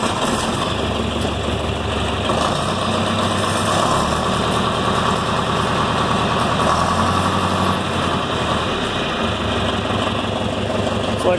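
John Deere 3020 tractor engine idling nearby, a loud, steady low diesel chug with rhythmic throb that holds constant throughout, with slight shifts in pitch partway through.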